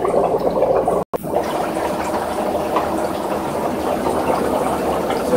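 Air from a small airbrush compressor bubbling through water in a homemade stucco wire and PVC egg washer, a loud continuous churning burble with one brief dropout, no talk.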